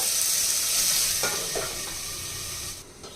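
Sliced onions soften in a hot pan with a steady, bright sizzle, broken by a few soft scrapes of stirring. No one speaks.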